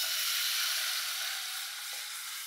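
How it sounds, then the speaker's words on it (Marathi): Chakvat greens hitting hot oil in a heated pot during tempering give a steady, bright sizzle that holds evenly throughout and eases off slightly toward the end, with no talking. "असं चरचरीत झालं पाहिजे."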